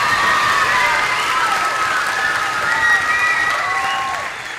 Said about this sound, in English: can we please give all of these boys and girls from pre-K to second grade a big round of applause?